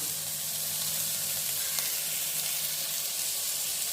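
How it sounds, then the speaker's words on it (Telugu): Chopped tomatoes fry with bottle gourd in a hot pan, a dense, even sizzle that stays loud and close for the whole stretch, with no talking over it. "టమాటా వేసి వేపుకుంటాం"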